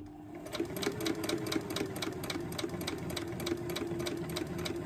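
A domestic sewing machine top stitches along the edge of exterior fabric panels, a fast, even mechanical whir with rapid needle ticks running steadily and close for several seconds.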